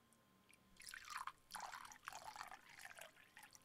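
Scotch whisky poured neat into a glass, a faint close trickle and splash lasting a few seconds with soft uneven gurgles, no talk over it.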